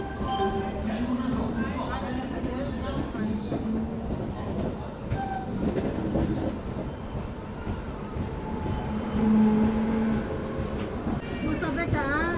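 The Rayalaseema SF Express rolls along after leaving Vikarabad following a long halt, with a continuous rumble and rattle of the running coaches heard from on board under a voice.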